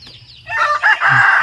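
Chickens and a rooster in a quiet hillside village, loud and close, with a crowing call rising over brief clucks and low background rumble.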